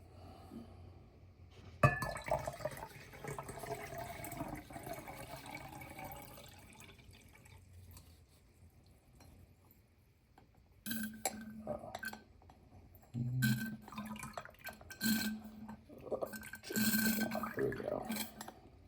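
Rinsing water runs and trickles through dissolved material during home gold refining on budget equipment, with drips and light clinks of glassware in a quiet setting, fainter in the middle and busier toward the end.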